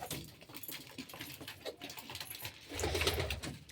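Pet pigeons bathing make soft coos, fluttering and pattering sounds, quiet and close, with a busier flurry toward the end.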